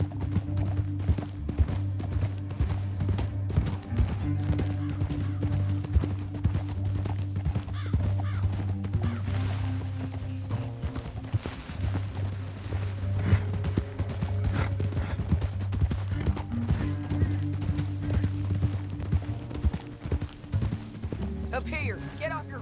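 Horse hooves gallop in a steady, rapid clip-clop rhythm in Red Dead Redemption 2, riding along a canyon, fairly close, with a brief whinny and game music and voices talking over the hoofbeats.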